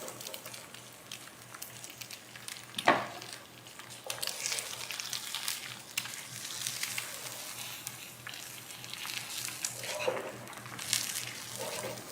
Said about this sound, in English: the egg hitting the pan, always the best sound